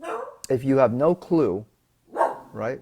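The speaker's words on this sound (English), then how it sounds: "That's my dog. I think they hear someone outside the door" A dog barks indoors, apparently at someone outside the door, in a few sharp barks mixed in with a person talking close by.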